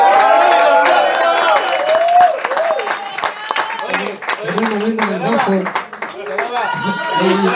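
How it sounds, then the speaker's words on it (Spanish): Concert audience clapping and cheering for the percussionist at a live band show, loud at first and then fading under someone talking and voices singing. "fuerte el aplauso"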